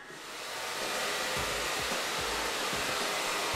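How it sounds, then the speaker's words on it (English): A hair dryer blasts steadily on freshly cut, texturised hair in a salon, a loud continuous airy roar with faint rhythmic thumps beneath, no talking. "a simple blast dry should do the job"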